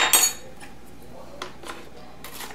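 A measuring spoon scooping baking soda from a large container, a brief metallic clink and scrape at the start followed by a few faint taps, close and quiet.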